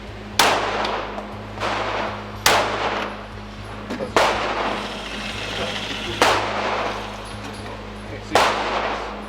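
Gunshots ring out at a shooting range, five sharp loud reports spaced about two seconds apart, each with a short ringing decay over a steady low hum, and a voice briefly speaks between shots.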